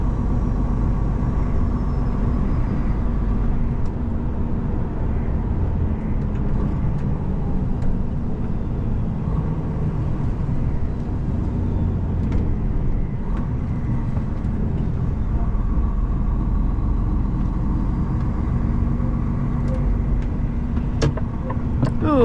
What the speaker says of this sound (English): loads of traffic, so we'll just take it steady.